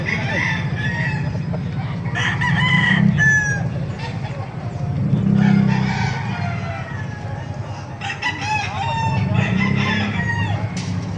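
Several roosters, Lemon Sweater gamecocks at a market in Baliuag, crow and hens cluck together in a busy, noisy yard, with overlapping calls rising and falling throughout and some voices underneath.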